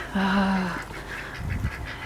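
Pekin ducks in a bathtub give one loud, close, honking quack lasting about half a second, followed by softer splashing and shuffling.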